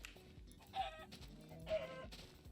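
Chickens clucking in Minecraft, two short bursts of bright, close clucks over a steady quiet game background.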